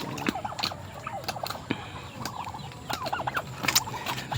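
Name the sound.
turkeys gobbling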